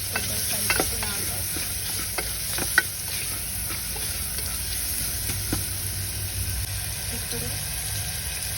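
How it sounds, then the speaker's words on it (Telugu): Potato and bean curry seasoned with turmeric and salt, stirred in a hot pan, with a steady sizzle and a few scraping spoon clicks over a constant background hum. "కొద్దిగా పసుపు, ఉప్పు వేసుకొని కొద్దిగా కలుపుకున్నాక"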